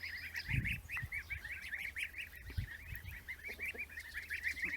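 A flock of tame goslings honks steadily in rapid, overlapping calls, fairly faint, with a few low thumps underneath.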